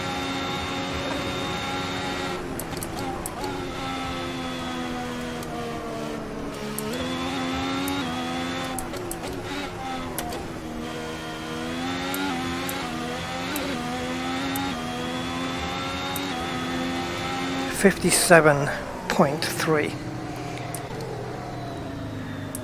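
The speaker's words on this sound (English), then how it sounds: "It sounds like I'm shifting early, doesn't it?" A race car engine in Assetto Corsa, played in VR, revving steadily through the gears with rising whines and quick drops at each early upshift, a continuous loud drone throughout with a few sharper bursts near the end.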